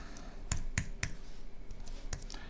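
A few sharp keyboard clicks from a computer during Photoshop work, four or five separate taps spaced irregularly over quiet room noise, close and fairly soft.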